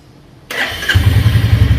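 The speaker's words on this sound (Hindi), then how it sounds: "तो बड़े प्यार से गाड़ी स्टार्ट हो चुकी है।" A 2024 Royal Enfield Classic 350 motorcycle engine starts after a quiet half second, the starter whir catching into a low, steady single-cylinder thump close by.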